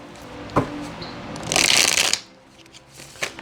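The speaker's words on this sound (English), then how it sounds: "Let me just give it one shuffle" A deck of tarot cards is riffled and shuffled in one quick burst, close and crisp, with a few soft taps before and after in a quiet room.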